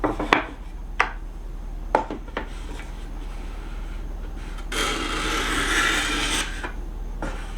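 A Japanese kanna chamfer plane cuts across wood end grain: a few short sharp scrapes near the start, then a longer, steadier rasping shaving stroke that swells and fades, close and fairly quiet.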